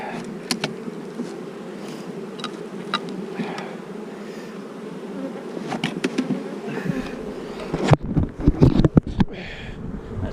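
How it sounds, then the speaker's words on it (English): Dense, steady buzzing from many bees around a hive goes on close by, with scattered bumps and knocks near the end. "A lot of bees."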